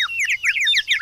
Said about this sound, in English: He's such a nice little bird, Teddies